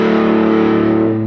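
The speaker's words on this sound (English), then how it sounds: "is more like a tube output distortion, so it's a big fat distortion" A Minson M8 set to a big, fat tube-style output distortion holds a loud, sustained, thick distorted tone with steady harmonics for about a second, with no talking.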